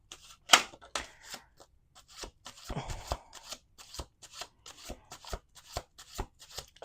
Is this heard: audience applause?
no